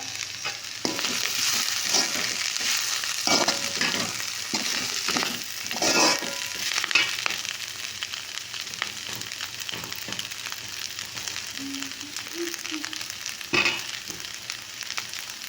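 Keerai greens sautéing in a pan with steady sizzling and repeated scraping stir strokes, close and continuous without talk.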